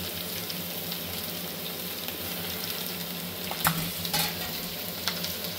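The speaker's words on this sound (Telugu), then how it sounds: "సో ఇది ఒక 5 minutes మంచిగా ఫ్రై అవ్వాలి." Onions and split green chillies with curry leaves frying in oil for a chicken fry, a steady even sizzle close by, broken by a few brief clinks of a spatula.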